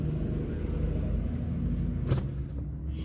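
Outside, a big truck rolls by with a steady low rumble at moderate distance, one brief brighter rattle near the end, and no talking.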